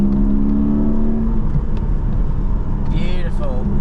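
A Porsche 718 GTS 4.0 with a 7-speed PDK gearbox, its engine holding a loud steady drone and then climbing sharply in a rising rev near the end, while someone talks over it.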